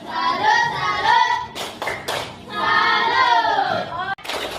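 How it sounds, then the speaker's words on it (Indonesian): A classroom group performs a rhythmic clapping cheer, chanting together between bursts of sharp claps. The voices are loud and close, and the sound comes in short repeated phrases. "Beri semangat kelompok 1 tepuk salut."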